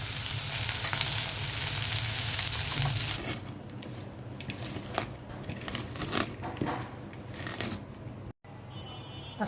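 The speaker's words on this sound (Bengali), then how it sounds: "পেঁয়াজের মধ্যে দিয়ে দিচ্ছি কালি জিরা, মিষ্টি কুমড়া, ঢেঁড়সগুলো দিয়ে দিচ্ছি" Pumpkin, okra and black cumin hitting hot oil with onions in a pan, a loud hissing sizzle that eases into crackling frying with scraping stirs and clinks.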